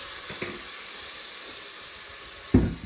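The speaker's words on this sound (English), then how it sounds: "we'll just deglaze with a little bit of dry white wine" Dry white wine hits a hot pan to deglaze it, giving a soft steady hiss of steam with a sharper sizzling burst near the end.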